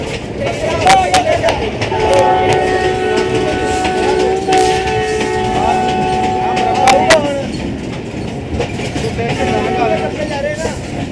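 A Pakistani local passenger train on the Lahore to Shorkot line rolls past nearby, wheels clattering, while its horn sounds a long, loud blast, then fades as the rumble continues.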